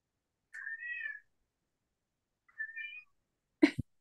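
A house cat meows for its dinner, two separate drawn-out meows a couple of seconds apart in a quiet room, then a short sneeze-like burst; close and fairly soft.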